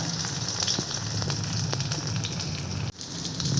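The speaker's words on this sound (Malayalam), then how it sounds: "അങ്ങനെ ഇതിവിടെ നന്നായി ഫ്രൈ ആയി വന്നിട്ടുണ്ട്" Black pomfret fish fries Kerala style in hot oil, a continuous close sizzle full of fine crackles and pops that dips briefly before resuming, with no one speaking.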